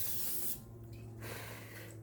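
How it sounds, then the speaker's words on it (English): A short hiss of cooking spray on the edges of a crockpot, two quick bursts with a brief pause between them, close by over low background hum. "I'm gonna go ahead and spray the edges"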